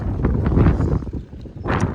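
Gusty wind buffets the microphone on a hiking trail on the Lycian Way, a low, rough roar that swells and dips over a couple of seconds.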